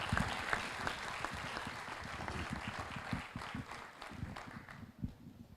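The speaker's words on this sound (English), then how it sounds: "So can we give a good big round of applause to Dr." An audience at an academic induction program applauds, a dense, continuous patter of many hands clapping at moderate distance, holding steady for several seconds before thinning slightly.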